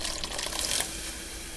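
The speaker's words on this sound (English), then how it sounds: "So I'm going to add a little bit of water." Water runs in a steady splashing stream, close by, poured into a pan while making shepherd's pie, lasting over a second with no talking.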